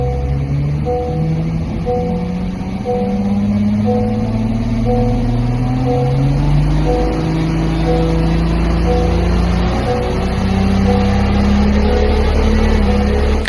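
A 2022 Honda Civic Si engine revs on a dyno, a loud continuous climb in pitch that rises steadily through the run with a smooth, strong tone and no voices over it.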